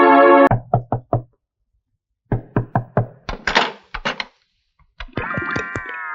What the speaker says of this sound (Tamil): எவ்வளவு நேரம் தட்டிக்கிட்டு இருக்கேன், கதவு திறக்கவே மாட்டேங்குது.